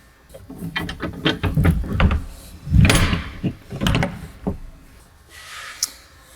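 Door opened and shut during a smart door sensor test: a run of close wooden knocks and clunks, with a heavier thud near the middle, then quieter rattles fading out. No one speaks.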